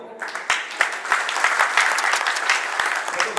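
Dense, steady clapping from an audience at a Kutch Prajapati community hall gathering, loud and close, filling the whole stretch without pause.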